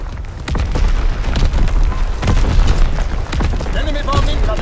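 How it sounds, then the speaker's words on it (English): Heavy artillery explosions boom repeatedly in a multiplayer first-person shooter match, with dense overlapping blasts and rumbling impacts under constant battle noise, while a voice speaks over the chaos. "Incoming enemy artillery."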